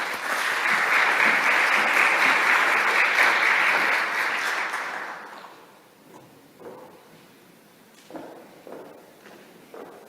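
Audience applause at a cocktail party for the World Water Forum 2024, loud sustained clapping for about five seconds that fades out, followed by quiet room sounds and a few faint knocks.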